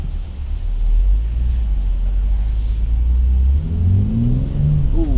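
A brand-new 2019 BMW X3 M40i SUV pulls away under throttle, its low engine rumble swelling into a rising rev toward the end, close and fairly loud with no talking.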